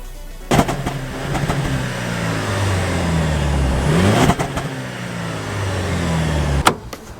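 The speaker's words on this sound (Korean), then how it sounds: "중저음의 세련된 배기음은 어, 아주 매력적입니다" A Jaguar E-Pace SUV engine idles with a deep, low exhaust rumble, rising and falling through several revs over several seconds, close and steady with no talking.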